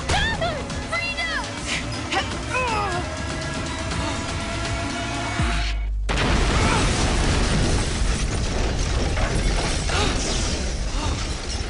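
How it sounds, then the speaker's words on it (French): In an animated series, a heavy, roaring explosion bursts out midway and keeps rumbling and crackling loudly, after a stretch of whistling, chirping effects and busy background noise. "protégeant de son corps David et Frida d'une explosion sans aucune hésitation"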